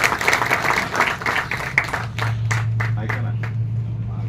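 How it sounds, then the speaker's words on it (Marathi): Audience applause welcoming a guest speaker from Jalgaon at a Right to Information citizens' group gathering: a dense burst of clapping that thins into scattered claps over a steady low hum. "टाळ्या आपण त्यांचं स्वागत करूया"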